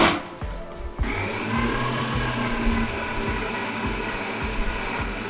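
A Kenwood stand mixer beats cold butter for pineapple tart dough, its motor whirring in a steady loud drone with rhythmic thumps as the beater turns.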